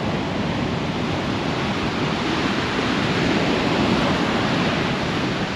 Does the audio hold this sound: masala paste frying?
no